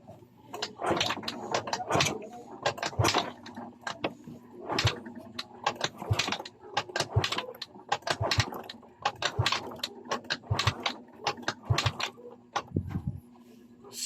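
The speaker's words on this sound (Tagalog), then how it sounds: "So try mo natin paanda rin. Kickstart muna natin." A Yamaha Mio Soulty scooter that won't start is kicked over repeatedly, giving a series of sharp mechanical thumps and rattles in an irregular rhythm, close and moderately loud, with no engine catching.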